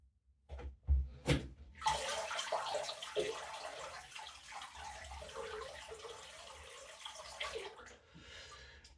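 Running water pours steadily over an aluminium safety razor as it is rinsed, a continuous splashing wash with a few brief knocks near the start.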